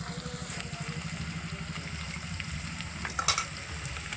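Onions and green chillies fry in a pan, a low steady sizzle with soft stirring scrapes and a brief louder clatter near the end, no voices over it.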